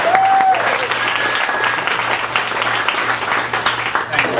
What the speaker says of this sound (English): I want you to give a rock star welcome to Gamso.